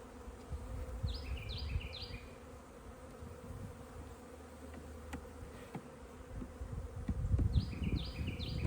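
Honey bees hum continuously around an open hive close by, a low steady buzz with occasional handling clicks, and faint bird chirps at the start and end.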